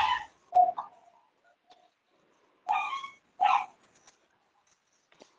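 Dogs bark nearby in two short bursts, one at the start and another a few seconds later, with quiet gaps between them and no talking.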